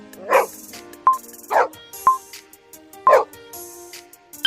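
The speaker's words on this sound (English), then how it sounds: "A dog." A dog barks three times in sharp, separate bursts spaced about a second apart, loud and close, with short electronic beeps sounding between the barks.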